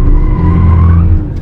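Car tires skid loudly through a slide, a close, sustained squeal holding steady for over a second before tailing off.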